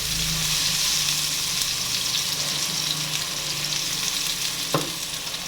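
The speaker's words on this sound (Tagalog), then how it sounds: "Brown natin ng kunti." Pork frying in a pan, a loud, continuous close sizzle with faint stirring, closing on a single sharp clink, and no speech.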